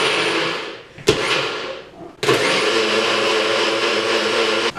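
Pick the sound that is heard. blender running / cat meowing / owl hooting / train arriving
blender running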